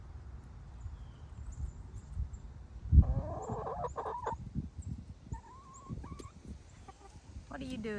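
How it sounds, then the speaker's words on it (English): Chickens cluck and squawk in short bursts over low rustling, with one sharp thump partway through; faint outdoor background throughout. "but I wanted to show you the chickens"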